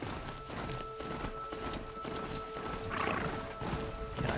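Hoofbeats of a robotic riding mount in the video game Horizon Zero Dawn, a steady rapid clip-clop that keeps a running rhythm over a dense, busy game soundscape with a brief whinny-like cry midway.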